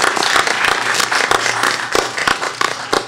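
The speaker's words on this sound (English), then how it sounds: "So one more round of applause for employees." Scattered clapping from a credit union annual general meeting audience honouring its employees, a sparse round of individual claps rather than a dense ovation, close and moderately loud.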